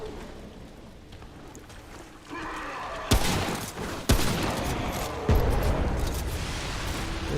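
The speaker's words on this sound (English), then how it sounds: "Someone just blew up another bomb." Bomb explosions in Remnant: From The Ashes, heard as several sudden loud blasts over a rumbling, noisy game background, each followed by sustained crackling wash.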